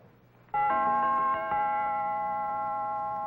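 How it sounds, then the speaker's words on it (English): A sustained chime of several bell-like door chime tones rings out clearly after a quiet start, with a couple of fresh strikes layered in as it rings on. "Real crazy chimes"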